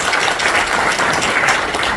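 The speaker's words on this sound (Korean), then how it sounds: "함께하신 모든 분들을 서로 환영하는 의미에서 힘찬 박수를 서로 부탁드립니다" Attendees at a forum opening ceremony in Incheon clap in welcome, a steady, close wash of applause filling the short moment without any talk.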